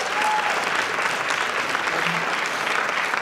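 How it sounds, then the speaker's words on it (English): Steady audience applause at a school board awards and recognition meeting, a dense even clapping wash heard alone at moderate level. "Yes, we can clap for that."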